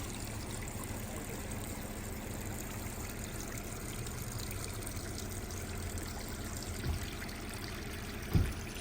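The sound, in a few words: water running through an off-road trail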